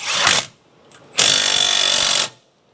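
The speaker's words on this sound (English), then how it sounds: "impact's coming in" An impact wrench works the strut bolts on a Toyota Tundra 5.7 4X2, firing two loud, close hammering bursts, a short one and then a longer one of about a second, with a quiet gap between them and no talk.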